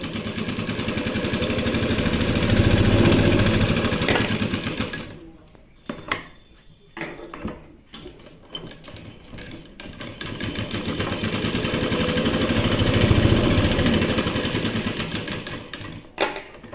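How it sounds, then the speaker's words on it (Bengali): A sewing machine sews a straight stitch in a steady, loud mechanical whir. It runs for several seconds, breaks off into uneven stops and starts, then settles back into a sustained run. "দেখো এই যে আমার সেলাই কিন্তু সুন্দরভাবে এই যে হচ্ছে তো এরম করে প্রথমে তোমরা সোজা সেলাই অনেকবার প্র্যাকটিস করবে"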